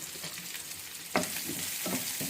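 Carrot, green chilli and ginger pieces stir-fried in a pan for a paneer vegetable salad, a continuous close sizzle broken by several sharp scraping stirs.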